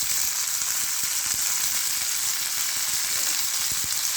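Boiled beans, pressure-cooked until two whistles, sizzle and fry after going into hot tempering with curry leaves, a steady crackling hiss with occasional stirring clinks, near and alone.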